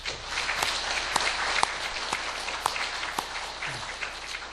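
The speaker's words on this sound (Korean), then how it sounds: "원로 어른들에게 우리가 감사의 박수를 한번 드리겠습니다." A Korean church congregation applauds its elders, a fairly faint, steady patter of many hands with a few sharper individual claps standing out.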